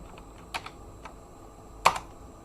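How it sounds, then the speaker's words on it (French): A computer keyboard gets a few light, scattered key presses while a command is entered in a terminal, ending in one firmer tap, all close and quiet over a faint background hum. "Je prends ma commande, j'ouvre mon terminal, je colle ma commande"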